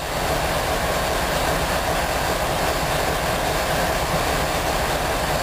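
A Norfolk Southern freight train hauled by GE and EMD locomotives rumbles past in a dense, continuous wash of rolling wheel noise, loud and steady throughout with no voices.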